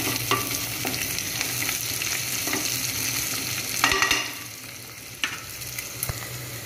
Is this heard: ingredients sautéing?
yes